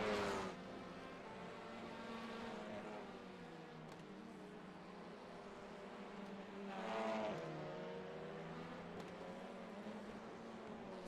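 Hyundai touring car racing on the Knockhill International circuit in a sim race, engine note whining and changing pitch with gear changes, a louder pass building near the start and again around the middle, otherwise a steady distant drone.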